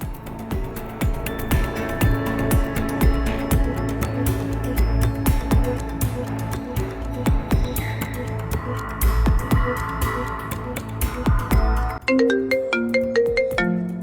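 A mobile phone ringtone rings at night, a loud looping electronic melody playing steadily close by, then shifting to a brighter chiming tone near the end.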